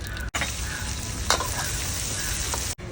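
Sliced onion and fennel seeds sautéing in coconut oil in a hot pan, a bright, steady sizzle close by with a brief clink of a utensil midway.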